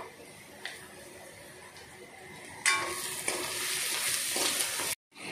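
Malvani masala and turmeric stir-fry in a pan with a quiet sizzle that swells suddenly partway through, a few scraping stirs sounding over it before a brief silence at the end.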